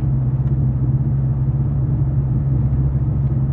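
Car rolling downhill on the clutch, a steady low engine rumble droning evenly inside the cabin with no revving.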